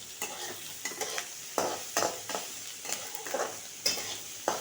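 Onion roasting in a pan gives a soft steady sizzle, broken by regular scraping strokes of a spoon stirring it, close up and moderately loud with no talk.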